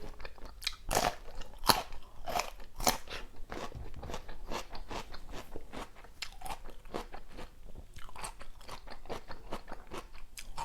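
Raw river prawns with crisp, translucent flesh being bitten and chewed up close, a dense run of loud crunchy bites and wet mastication with no talking.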